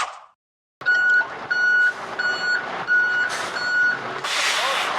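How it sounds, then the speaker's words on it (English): Reversing beeps from a garbage truck in the video game You Don't Know Jack, a steady series of evenly spaced electronic beeps over rumbling truck noise and a hiss like an air brake. "You know what that sound means. It's either a garbage truck backing up"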